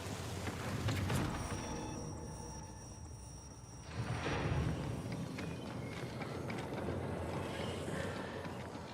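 Footsteps in the video game Marathon, a quiet, continuous patter of steps mixed into a low ambient game background, with no voices.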